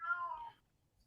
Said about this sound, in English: Is that a cat meowing?